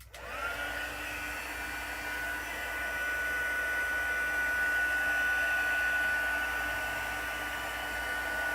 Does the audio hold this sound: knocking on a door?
no